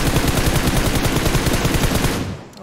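Rapid automatic gunfire in the battle-royale game PUBG, a loud sustained burst of closely spaced shots that cuts off near the end.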